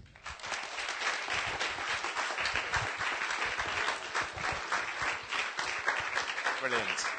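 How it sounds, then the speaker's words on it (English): A pub audience at a science talk applauds steadily, dense clapping filling the room for several seconds, with a murmur of voices underneath. "big round of applause, please, for Mark Henderson"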